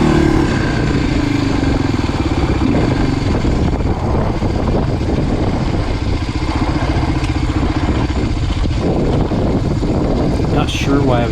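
Suzuki DR350 dual-sport motorcycle ridden hard on a Colorado dirt forest road, its engine droning steadily and close throughout with clatter from the trail.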